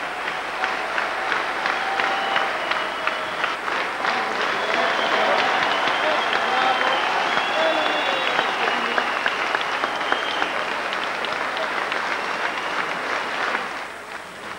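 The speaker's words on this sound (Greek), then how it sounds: "Όρθιοι οι συνέδροι χειροκρότησαν θερμά τον Παλαιστινίο ηγέτη" Party congress delegates in the Olympic Stadium stand and warmly applaud Palestinian leader Yasser Arafat at the PASOK congress. Loud, sustained massed clapping swells and then fades away at the end.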